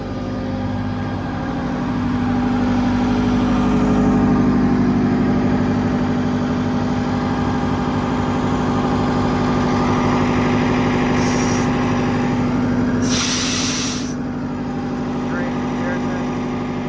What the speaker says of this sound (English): Let's go have a look at the compressor while it runs as well.